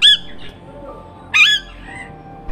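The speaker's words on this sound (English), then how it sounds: "the parrot," A parrot gives two sharp, loud squawks about a second apart, with quiet background between the calls.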